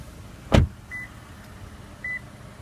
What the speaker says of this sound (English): Now let's pop up the trunk as well as the gas cap.